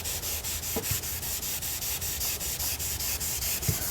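Wet sanding of car paint with a sanding block, a steady, close rasping rub that repeats in quick regular strokes, with a few faint knocks and no talking.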